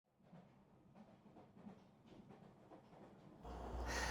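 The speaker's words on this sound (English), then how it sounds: "Mr. Brown and I went for a train ride on the Chehalis Valley Railroad" A heritage train on the Chehalis Valley Railroad, heard from inside a 110-year-old car, rumbles softly with faint rhythmic rail clatter, then grows louder and harsher near the end.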